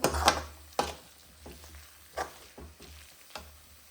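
Chana dal and jaggery are being stirred and roasted in a pan over low heat for puran poli. Soft scrapes of the spoon come at intervals over a faint, low sizzle, close by and quiet.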